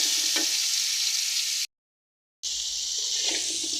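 Cauliflower florets frying in oil in a pan for a koi fish curry, giving a steady, even hiss of sizzling that drops out briefly in the middle before resuming.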